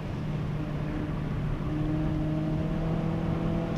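A Peugeot 206 GTI drives a small 1.4 km race circuit near 140 km/h, its engine holding a steady, loud drone with rising tonal harmonics and continuous road and wind noise throughout.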